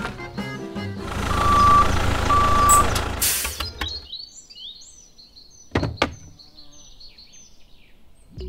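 A truck gives a couple of steady reversing beeps over engine rumble after a candy making machine is loaded onto it, followed by scattered clatter and knocks.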